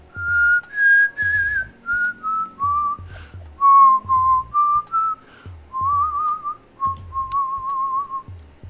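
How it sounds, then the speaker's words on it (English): A person whistles a wavering tune alone in short phrases, with brief pauses between notes, fairly close and clear. "He's whistling."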